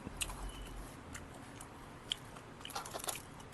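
Crisp bites and chewing on a crunchy old-style Thai street snack with a soybean topping and shredded shrimp filling, close and fairly quiet, with a few sharp crunches standing out over soft mouth sounds.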